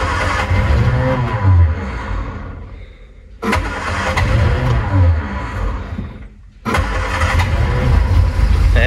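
An Austin-Healey Frogeye Sprite, found in a barn with dirt and corrosion on its valves, cranks and catches in repeated loud bursts of low engine rumble, with two brief dips between attempts before it keeps running.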